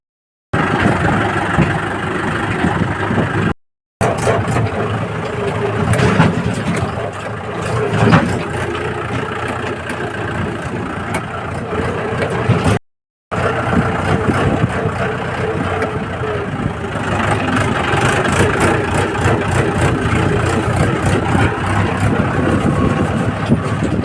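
A Massey tractor engine idles steadily with a low, chugging rumble throughout, close and loud, with a couple of brief drop-outs in the sound.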